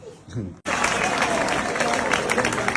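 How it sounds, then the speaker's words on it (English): After a brief moment of voice, applause from a school gathering bursts in abruptly and carries on loud and steady, a thick crowd of clapping hands. "The clapping should start."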